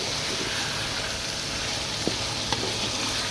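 Mutton fries in a karahi with a steady, close sizzle and the odd faint stir or tap against the pan, with no voices.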